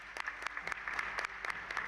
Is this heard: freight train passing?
no